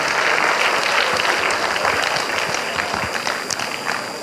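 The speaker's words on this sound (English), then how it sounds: "Let's give the children a very big round of applause." Audience at a state-level children's abacus arithmetic contest gives the young participants a sustained round of applause, a dense, steady wash of many hands clapping throughout, loud and close.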